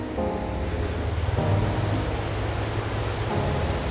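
A mixer grinder whirs loudly and continuously, grinding spice paste with a little water, a dense motor roar with slight shifts in pitch as it grinds.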